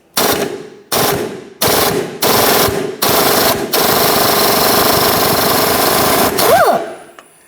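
Impact-style power tool loosening a bolt with a 16mm socket on a 2007-2013 Mini Cooper: several short loud rattling bursts, then a long continuous hammering run that ends with a whining spin-down.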